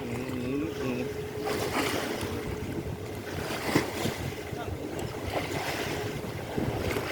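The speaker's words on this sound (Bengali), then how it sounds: "নূরপুরের লঞ্চটা আগে চলে এলো।" A river launch passing on open water, its low engine rumble blending with wind buffeting the microphone and lapping waves, steady and moderately loud throughout.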